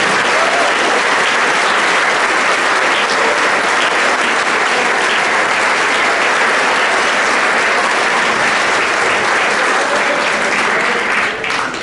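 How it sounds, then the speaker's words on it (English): A banquet hall crowd at a high school football banquet gives sustained, dense applause for the seniors, loud and continuous for about twelve seconds. "I want to give one more round of applause to these seniors"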